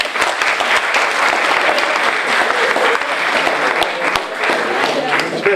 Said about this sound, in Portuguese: uma salva de palmas para a Andreia